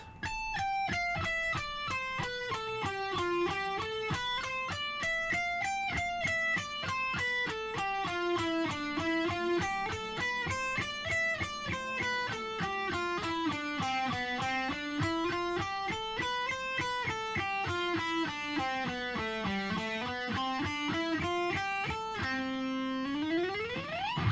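A plucked string instrument runs a scale up and down repeatedly on its top two strings in a steady rhythm, clear and close, with a bright, slightly effected tone and no talking.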